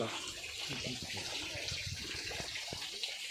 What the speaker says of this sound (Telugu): ఇక్కడ నిత్యం ఇలా వాటర్ కారుతూ ఉంటుంది